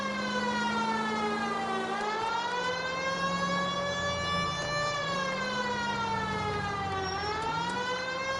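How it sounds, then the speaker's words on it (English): A police car siren in L.A. Noire wails continuously, rising and falling in long sweeps that repeat every few seconds over a low engine rumble, loud and close. "At least if you put the siren on, it'll let people know what's happening before you hit them, Phelps."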